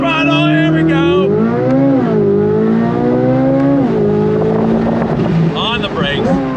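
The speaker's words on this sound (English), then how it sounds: "Launch control, on throttle, here we go." A Chevrolet C8 Corvette Z06 launches hard on launch control, its engine screaming loud and close as the revs climb and shift through several gears in rising sweeps, with a brief voice near the end.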